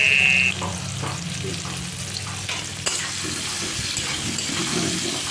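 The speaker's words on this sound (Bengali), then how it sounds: "এখন মাংসটা আমি রান্না করে নিচ্ছি।" Meat fries with onion, cumin and bay leaf in hot oil in a kadai, a steady close sizzle broken by the scrapes and knocks of stirring.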